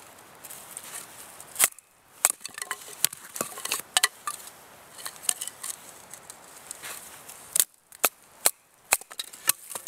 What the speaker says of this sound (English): So I'm just making little pieces for kindling.